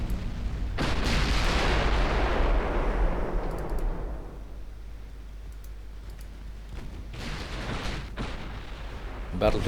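Battleship secondary guns pound a destroyer in a naval battle game set in 1935 Italy, a loud sustained rumble of overlapping booms that fades after a few seconds, with further sharp gun reports later.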